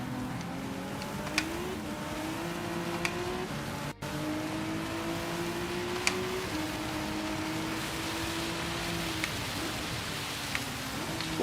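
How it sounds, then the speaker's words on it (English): Steady rain hisses in the background with occasional sharp drops tapping, while a car engine drones and shifts pitch up front, constant and moderately loud throughout. "Listen to that fucking rain."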